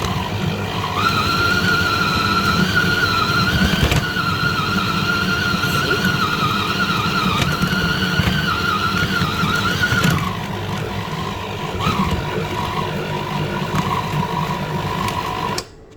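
Electric food chopper kneading doughnut dough: a loud, continuous motor whine with a high strained pitch, shifting slightly as the dough load changes and dropping in pitch partway through before cutting off at the end.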